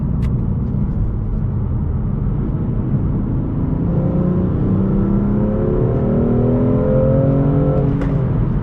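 A 2019 BMW M2 Competition with a manual gearbox drives and accelerates, its engine note climbing steadily in pitch as it pulls through the gears, loud and continuous from inside the car with no talk.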